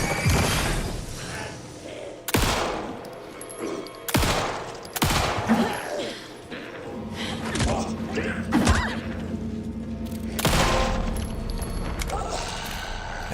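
Gunfire in the Alan Wake 2 survival horror game, several loud, sharp shots spaced irregularly over a dense rumbling game soundscape with mechanical clicks and creaks between them.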